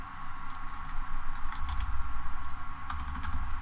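Rapid computer keyboard typing in clicky bursts, close and moderately loud over a steady low hum, with no voices.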